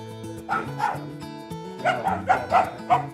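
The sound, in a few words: puppies barking before being fed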